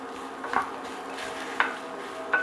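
Jackfruit browning in a pan for ragu, stirred now and then: a soft steady sizzle with three brief scraping clinks of the utensil against the pan, close and quiet, no talk.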